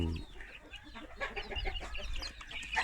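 A young spotted domestic rooster, a future breeding cock raised from incubator-hatched stock, clucks and calls in a busy run of close fowl noises with other chickens around, and no one talks over it.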